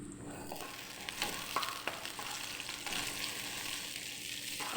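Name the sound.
bay leaves and whole peppercorns sautéing in oil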